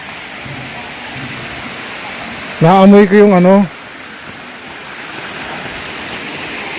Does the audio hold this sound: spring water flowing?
yes